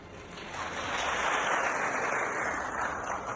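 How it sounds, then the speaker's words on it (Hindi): Audience applause at a talk, a steady wash of many hands clapping that swells and holds for a few seconds, moderately loud and without voices. "अब आप लोगों ने ये तालियां क्यों बजाई हो मुझे बताएं"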